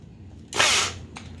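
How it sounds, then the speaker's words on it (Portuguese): A power drill used as a screwdriver drives a screw into wood, giving a single short high whine of about half a second, close and loud, followed by a very brief second burst. "Eu uso a minha furadeira aqui como parafusadeira."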